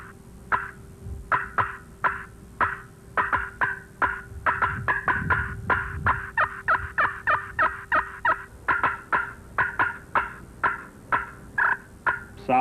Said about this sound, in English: The cutting of a hen.